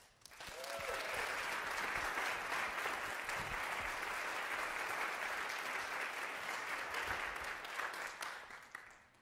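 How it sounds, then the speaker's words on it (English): Audience applause welcoming Marlon Carey to the stage at a Voices on the Green storytelling evening, a steady sustained clapping from a full room that lasts about nine seconds, with a brief whoop near the start and no talk over it. "A round of applause for Mr."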